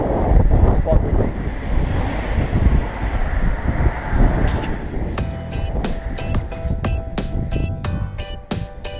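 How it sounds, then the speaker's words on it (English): Strong coastal wind in Taiwan buffets the microphone with heavy low rumble over faint surf, and a series of sharp clicks and rattles breaks in toward the end. "It's quite windy."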